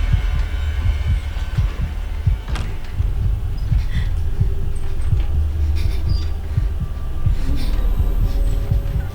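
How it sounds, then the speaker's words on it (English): A deep, heavy heartbeat pulses in a steady rhythm in the Resident Evil 7 lantern trailer, loud and throbbing under a low ominous hum with faint eerie tones above, with no voices. "I'm like hearing my heartbeat in my headphones."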